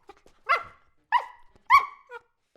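Three separate barks from the three-headed dog Cerberus in the video game Hades, fairly close and clear, evenly spaced over a couple of seconds with quiet between them.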